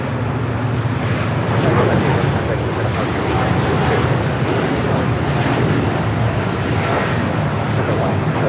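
An airliner departs from Los Angeles International Airport: a steady, fairly loud engine roar with broadband rumble that holds level throughout, with no clear rise or fade.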